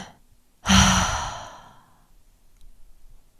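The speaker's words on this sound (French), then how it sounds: "Tu inspires par la bouche, une seconde inspiration par la bouche et tu expires par la bouche" A single forceful breath through the mouth, part of a Triactive Breath breathwork exercise, rushes in loud and close, then trails off into quiet within about a second.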